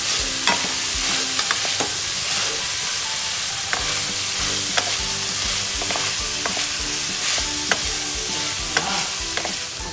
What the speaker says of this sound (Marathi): आपल्या या भाज्या मस्त अशा परतून झाल्यात